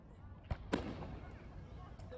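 Fireworks at the Silver Dollar Fairgrounds show go off as two quick, faint bangs close together, distant and soft beneath a low background murmur.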